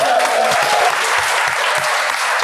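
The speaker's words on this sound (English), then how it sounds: "let's give them an applause." An audience at an interview with members of a band claps. The applause is dense, loud and steady, and it runs for a couple of seconds without any talk over it.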